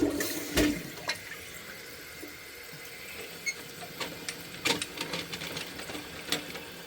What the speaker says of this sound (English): Let me flush that a little bit.